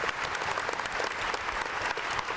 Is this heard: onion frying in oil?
no